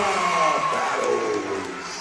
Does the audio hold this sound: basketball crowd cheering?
yes